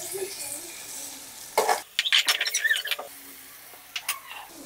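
Chopped tomatoes sizzling and softening in a hot pan while being stirred, a steady frying hiss broken by several close scraping and clattering bursts of the spoon against the pan.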